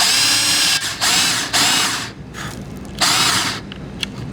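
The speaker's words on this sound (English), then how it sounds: "We want to drill through, we want to make a countersink" A power drill cuts a countersink into scrap material in three short, loud bursts of high whining spin, with brief pauses between them and quiet handling noise afterward.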